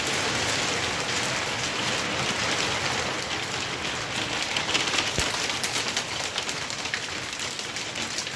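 Hail drums steadily on nearby surfaces in Bodrum, Turkey, a loud dense clatter with occasional sharper hits, continuing without pause and no one speaking.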